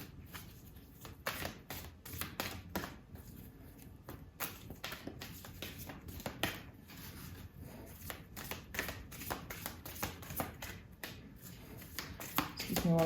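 Soft, continuous riffling and tapping of tarot cards being shuffled, quiet and close, with a low voice in the background.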